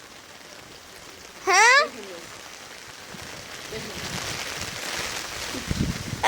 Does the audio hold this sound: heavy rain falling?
yes